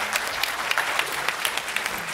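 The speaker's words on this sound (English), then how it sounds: "Let's give them a round of applause." Audience at a legal technology conference panel gives a brief round of applause, a lively, crisp clatter of many hands with sharp individual claps standing out, lasting about two seconds.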